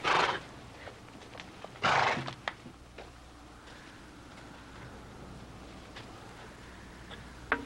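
A horse whinnies loudly twice near the start, then only faint background noise remains with a brief sharp sound at the end.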